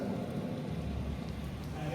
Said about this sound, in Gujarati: એટલો ફાસ્ટ વરસાદ આવે છે.